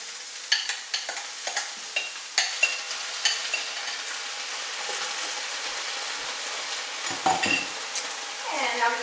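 Potatoes hit a hot soup pot of red cabbage and black beans, setting off a steady sizzle with repeated scraping stirs and light utensil knocks, close and continuous with no voices.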